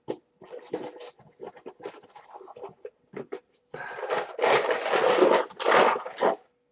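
Coins clatter and jingle as they are shaken and stirred in a box, in short bursts first, then a longer loud rattling.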